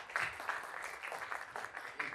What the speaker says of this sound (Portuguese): Receba a nossa salva de palmas.